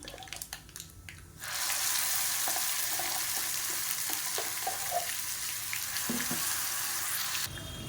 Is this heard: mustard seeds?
yes